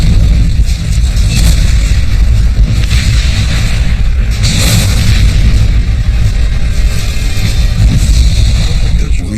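Heavy artillery shelling in a 1973 October War battle: dense, continuous booming explosions and rumbling blasts, loud and close, layered with bursts and crackling throughout.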